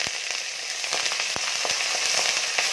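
Hot oil sizzles continuously and close as chana dal, curry leaves and green chilies fry, with scattered sharp pops and crackles spread across the steady hiss.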